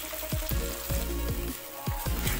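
Spices, garlic paste and chopped tomato fry in hot oil in a pan for a fish curry, a steady close sizzle broken by several sharp scraping stirs of a spoon against the pan.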